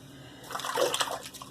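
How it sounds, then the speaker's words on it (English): Water splashes in a brief burst as a face is washed with leftover shaving soap, rising to a close, wet patter before quickly fading out. "I'm going to do a little face wash with it."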